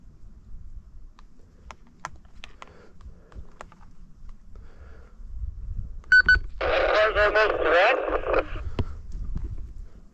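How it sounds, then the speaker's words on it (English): A walkie-talkie crackles with a short burst of radio chatter in the middle, amid wind and scattered knocks at a canyon crash site where a Ford F-250 lies folded in half. "You hear the walkie-talkie?"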